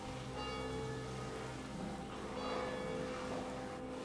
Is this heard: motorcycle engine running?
no